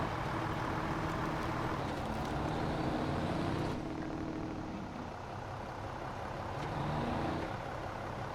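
Ziks 605R truck engine in SnowRunner, a deep continuous rumbling drone that holds steady, dips slightly midway, then swells again, loud and close with no talk.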